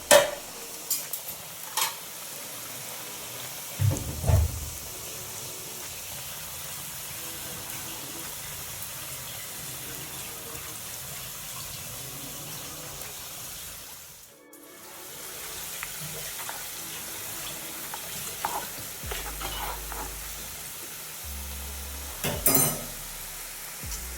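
French fries sizzling in hot oil for a homemade fried chicken meal, a steady frying hiss running throughout with a brief lull midway and occasional clinks and stirring knocks, no talk.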